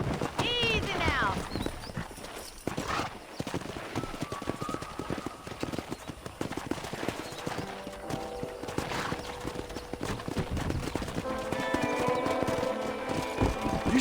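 Wild horses in the video game Red Dead Redemption, hooves clip-clopping in a running rhythm with loud neighs and whinnies, game dialogue and voices talking over it.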